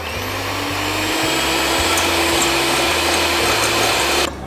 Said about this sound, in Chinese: 然后我们打蛋器开中高速